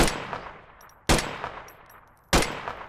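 An AKM rifle in a video game firing three single loud shots about a second apart, each sharp crack followed by a decaying echo.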